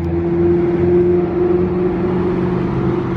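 A Ferrari GTC4 drives past on a Monaco street, a close steady engine drone with a firm low hum that holds through the pass and eases slightly at the end.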